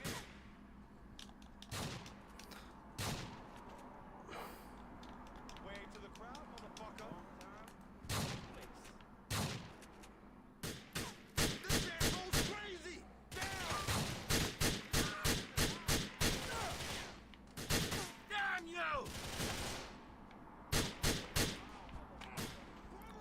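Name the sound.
gunfire from the video game Grand Theft Auto IV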